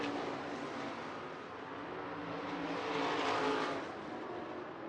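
Stock cars race at Hancock County Speedway during a heat race, a dense roaring engine wash from the pack that swells as the cars pass and then eases, heard at moderate distance.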